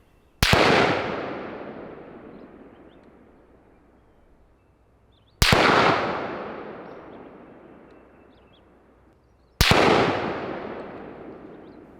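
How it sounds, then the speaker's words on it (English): Three loud, sharp gunshots from an unsuppressed AR-10 rifle with an 18-inch barrel, recorded downrange. Each crack is followed by a long, slowly fading rumble, and the shots are spaced several seconds apart. "We shot it unsuppressed."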